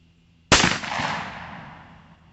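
A Rossi R92 lever-action rifle chambered in .45 Long Colt fires a single sharp, loud shot close by, its crack followed by a long, fading boom and echo that dies away over about two seconds.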